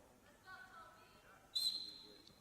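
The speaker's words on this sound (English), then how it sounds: "And the official blows his whistle." At a high school wrestling match between Wenatchee and Moses Lake, the official blows a sharp, shrill whistle blast lasting about half a second, loud and near over gym crowd noise, after a fainter tonal sound and commentary.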